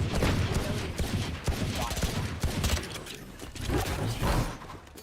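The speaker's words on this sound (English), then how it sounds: "Placing swarm grenade. Swarm grenade out." Dense, sustained video game combat noise from Valorant, with a swarm grenade and rapid gunfire crackling loudly and continuously, layered with mechanical clatter.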